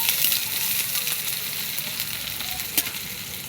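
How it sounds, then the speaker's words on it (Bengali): Chopped onion fries in hot oil for an egg curry, a steady close crackling sizzle with a faint clink of utensils and no talking. "এই দেখুন পেঁয়াজটা ছেড়ে দেবো তেলে।"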